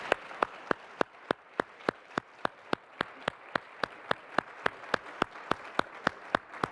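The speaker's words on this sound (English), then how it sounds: "please, a warm round of applause for these fantastic panelists" Sharp, evenly spaced claps in a steady rhythm, about three per second and close by, close out a health care advocacy panel on cost and quality, with no talking.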